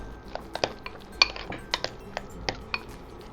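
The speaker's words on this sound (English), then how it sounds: "Gonna go ahead and mash these." Beans being mashed in a bowl for a beef chimichanga filling, heard as a series of sharp, close clinks and taps of a utensil against the bowl in an uneven rhythm, with no talking.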